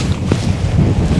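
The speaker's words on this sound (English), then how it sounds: "still windy as hell" Strong wind on a coastal footpath buffets close against the microphone, a brief continuous rumbling roar with no voices.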